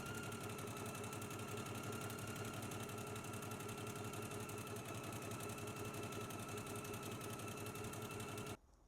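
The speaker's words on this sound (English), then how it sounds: "we can go ahead and stitch at a 5/8 of an inch seam allowance, and I will be using a zigzag stitch" A sewing machine zigzag-stitches a 5/8-inch seam on an easy-to-sew McCall's 8448 dress, running continuously with an even mechanical chatter for about eight seconds before cutting off.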